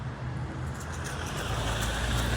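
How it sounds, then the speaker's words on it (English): A car engine rumbles close by in a low, steady idle-like drone with faint road noise as the vehicle pulls up, heard alone without talk. "that car pulled up on me"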